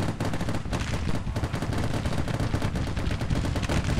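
Massed musket volleys from troops in a Grand Tactician Civil War battle, a dense rapid crackle of overlapping shots rolling on without pause, loud and continuous.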